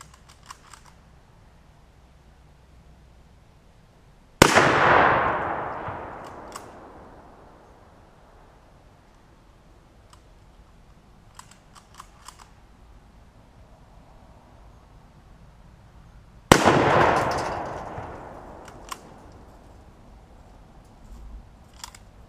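Two sharp, loud reports from a Mosin Nagant rifle firing surplus 54R ammunition, about twelve seconds apart, each trailing off in a long echoing decay, with quiet ambience and faint clicks between them.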